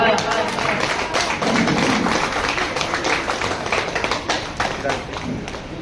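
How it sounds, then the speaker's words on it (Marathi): An audience at an inauguration event bursts into steady, dense clapping that carries on for several seconds at close range, with voices mixed in beneath it. "कृपया जोरदार टाळ्या."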